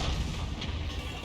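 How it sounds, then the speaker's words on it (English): Tank cannon fire in an online tank battle game: a heavy, booming blast that fills the short moment with dense low rumble and no speech. "somebody just unleashed a double shot"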